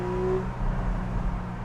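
A Porsche 911 Carrera S (991) convertible engine idles with a deep, steady rumble, a brief higher tone fading early, close and fairly loud with no voices.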